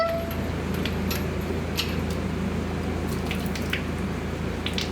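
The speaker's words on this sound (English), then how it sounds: "we're gonna flip it over and see how much water pours out of the damn thing" Water drains out of a flipped-over oil pan from a 3rd-gen Hemi engine, a steady close splashing pour with scattered drips and no voices.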